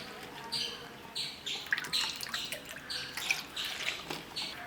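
Water is added to ragi flour and mixed in a bowl, giving close, intermittent splashing and sloshing bursts in an uneven rhythm.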